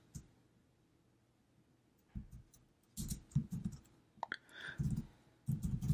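Keys on a computer keyboard clack in quiet, irregular bursts of quick clicks, separated by short pauses, close and fairly soft in an otherwise still room.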